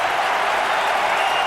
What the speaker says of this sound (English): Crowd pumps up the volume